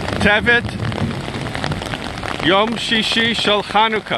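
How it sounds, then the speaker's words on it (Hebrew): Heavy rain patters steadily on surfaces during a hike at Tzalmon stream, filling the background while someone speaks over it throughout. "יש הרבה גשם"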